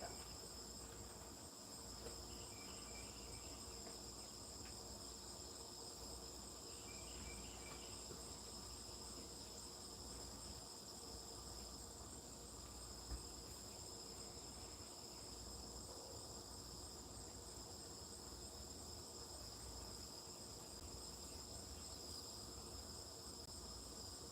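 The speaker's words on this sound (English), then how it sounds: "The birds are a little quiet, but the crickets are super loud." Crickets chirp at dawn in a continuous, high-pitched pulsing drone, steady and fairly faint, with a quiet outdoor background and no voices.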